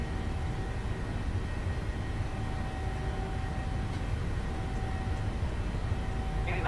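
Jet engines on a PMDG 737-800 in Microsoft Flight Simulator spool up at takeoff thrust, a steady loud roar with a whining tone held throughout.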